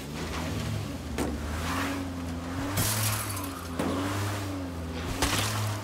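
A car engine in State of Decay 2 hums steadily with a low drone, revving up briefly a few times, with a faint game-like electronic quality.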